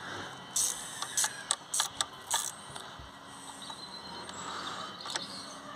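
A socket wrench turns a glow plug, ratcheting in a series of sharp metallic clicks and creaks, several quick bursts, then quieter scraping and handling noise.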